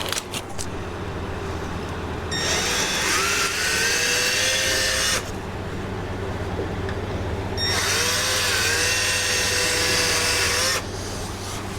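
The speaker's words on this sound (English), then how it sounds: "now let me go get a drill and we'll drill those holes out." A power drill bores holes in a mower deck tread in two sustained bursts of a few seconds each, the motor whining over a steady low background hum, with no talk.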